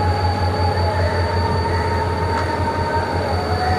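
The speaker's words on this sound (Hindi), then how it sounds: "और ये आ गई 82 down 42 down Shah Hussain express" Shah Hussain Express train arriving at a station, heard as a steady, loud rolling rumble with a sustained metallic wheel squeal and a low engine drone throughout, with no voices.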